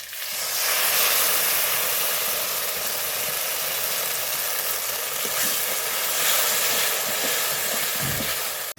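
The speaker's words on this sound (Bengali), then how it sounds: "এই যে পোস্ত বাটাটা দিলাম, এটা ভালো করে কষিয়ে নেব" Poppy seed paste frying with spices in a pan for rui posto, a Bengali rohu fish dish, giving a steady close hiss and sizzle throughout with no talking.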